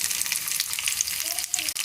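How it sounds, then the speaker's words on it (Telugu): Cumin, garlic and tempering seeds sizzling in hot oil for gongura pappu, a close, continuous crackling hiss with a brief pause near the end and no talking. "ఆయిల్ హీట్ అయిపోయిన తర్వాత పోపు గింజలు వేసుకోవాలి."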